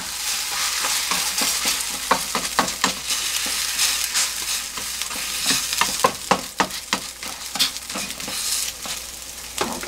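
Korean jeon pancakes fry in an oiled frying pan for holiday dishes, giving a steady bright sizzle with crackling pops and occasional scraping and stirring clicks, close and fairly loud, with no talking.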